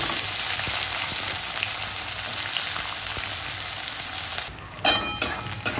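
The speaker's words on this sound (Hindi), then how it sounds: "प्याज भून रहे हैं यहाँ पे" Onions frying in hot oil with whole garam masala spices and asafoetida give a steady, loud, close sizzle, followed near the end by a few sharp stirring scrapes and clatters in the pan.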